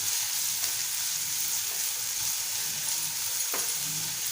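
Onion and curry leaves sautéing in a pan for Malvani-style sprouted lima bean birde, a continuous bright sizzle with a couple of soft scrapes of stirring, no voices.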